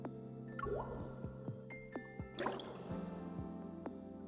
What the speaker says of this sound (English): It's easier to relax in the hot springs.